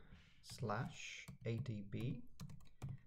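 A command is typed on a computer keyboard, with a few sharp, close key clicks heard between and under a person's steady talking.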